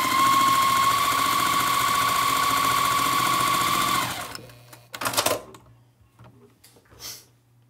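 A sewing machine stitches a Christmas tree quilt top, running loud and steady with a fast mechanical whir for about four seconds, then stopping; a few soft handling clicks and thumps follow in the quiet.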